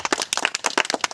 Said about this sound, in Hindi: ताली बजाओ बच्चा लोग, ताली बजाइए